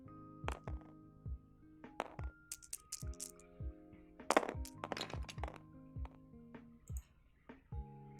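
Virtual dice clatter and thunk in a Tabletop Simulator game of X-Wing 2nd Edition, a scattered run of sharp clicks and knocks with ringing tones, fairly quiet and with no talking.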